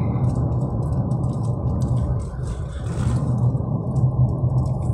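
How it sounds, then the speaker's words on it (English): A low, heavy engine rumble drones steadily from inside a moving GSA truck, with road noise and a rattling hum throughout. "I'm riding a GSA truck, which rides like a tank and sounds like a tank."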